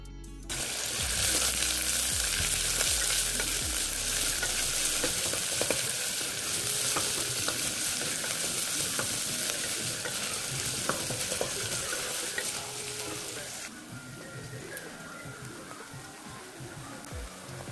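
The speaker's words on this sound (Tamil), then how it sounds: "அதனால் பச்சை மிளகாய் போட்டு இப்போ நல்லா எல்லாத்தையுமே வதக்கிக்கலாம்" Onion and green chilies sautéing in a pan while preparing egg pulao, a loud continuous sizzle with occasional stirring clicks, easing off near the end, with no talk.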